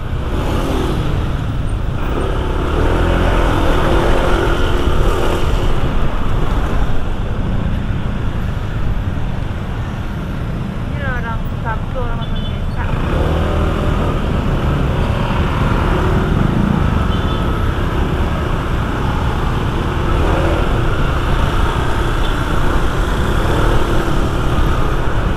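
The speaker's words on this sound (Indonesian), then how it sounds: "Gila macet banget" Dense traffic noise in a heavy jam, heard from a Honda ADV 160 scooter carrying a rider and passenger: a continuous close rumble of cars and engines, with occasional passing vehicles and a brief hiss of air brakes.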